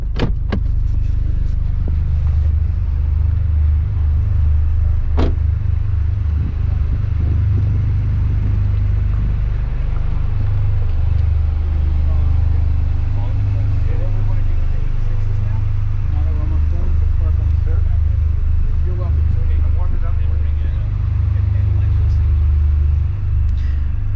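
A 2023 Toyota GR Corolla Core model drives along with a loud, steady low engine and road rumble filling the cabin, while a person talks continuously over it.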